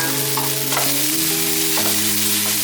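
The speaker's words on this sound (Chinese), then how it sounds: "大约略炒一下，放入芹菜" Vegetables and tofu skin hiss loudly while being stir-fried in a wok, a close continuous sizzle with a few quick scraping tosses and no speech.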